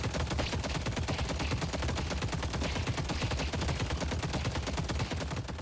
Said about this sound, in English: So we just shoot the gun for like 5 minutes.